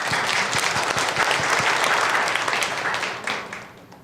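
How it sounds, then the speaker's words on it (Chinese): Church congregation at a Sunday service claps together, a lively burst of many hands with distinct individual claps audible before it gradually tapers off near the end. "我们拍手好不好"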